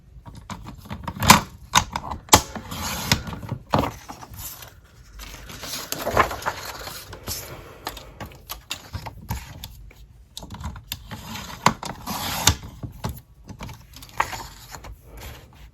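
Paper planner boxes are trimmed with sharp, irregular snips and clicks close by, mixed with light rustling and creaking handling noises.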